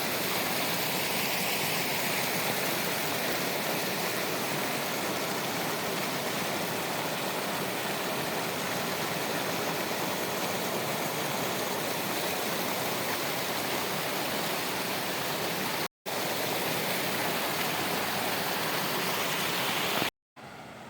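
Rainwater stream flowing beside a roadside, a steady broadband rush like a small waterfall running continuously and fairly loud, with a possible car engine hum blended in and two brief dropouts near the end.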